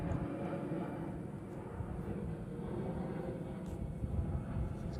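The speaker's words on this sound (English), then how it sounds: "Got an airplane going right above me." An airplane passes overhead outdoors as a steady, broad low rumble that holds at an even, moderate level for the whole stretch, with no voices.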